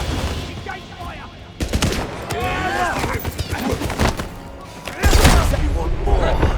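Rapid gunfire bursts from a 007 video game crackle through busy battle noise, with voices shouting over the shooting and a louder burst near the end.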